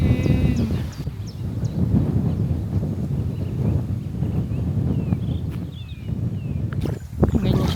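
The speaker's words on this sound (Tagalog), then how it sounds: "Grabe yung hangin." Strong wind buffets the microphone at a riverside campsite in Tanay, a loud continuous rumbling roar throughout, with faint bird chirps and brief voices in the background.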